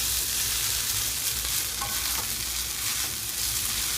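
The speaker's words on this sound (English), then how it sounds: "Just stir it in the heat and with the rice." Tomato and rice stir-fried together for vegetarian fried rice, a steady close sizzle and hiss of frying with occasional scraping strokes of the stirring utensil, continuous throughout with no talk.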